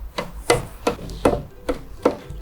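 A knife strikes a cutting board in six steady, evenly spaced chops, close and crisp, with no voices, outdoors by a campfire.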